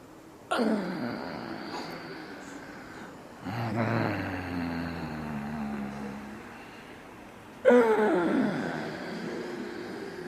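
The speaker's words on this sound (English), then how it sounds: "When you breathe like this, I make it a little bit louder for you to hear" A person demonstrates forceful qigong breathing called dragon and tiger breath: three long, loud, roaring breaths, close to the microphone, each starting abruptly and fading, separated by quieter pauses.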